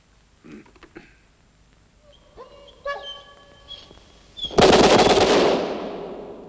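Machine gun firing in a 1982 film scene: scattered clicks and metallic sounds, then a loud sustained burst of automatic fire that decays into echo, with no talk.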